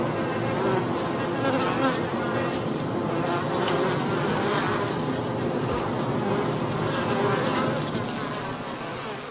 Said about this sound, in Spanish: Las componentes de la avanzadilla recorren el enjambre haciendo vibrar sus alas.